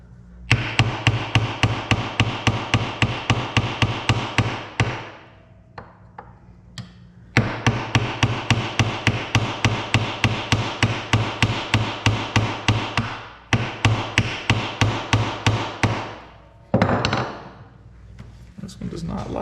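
Steady, rapid hammer blows knock apart an Old Town PDL pedal drive. The strikes come in sharp, close, rhythmic bursts broken by a few short pauses.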